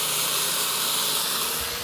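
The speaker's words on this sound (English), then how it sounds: "And you can hear the sizzle." Chicken sizzles on the hot grill of a Ninja Foodi Smart XL grill air fryer, a loud continuous hissing crackle heard up close with no voices.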